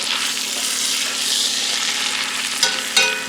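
Meat sizzles and fries in a hot pan as it browns, a loud, dense, continuous crackle with a couple of sharper bursts near the end when the pieces are moved.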